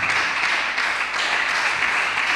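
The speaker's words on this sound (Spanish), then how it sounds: "Démosle un aplauso al Creador de los cielos" A church congregation breaks into brief, steady applause, many hands clapping together in a continuous, fairly loud patter with no voices over it.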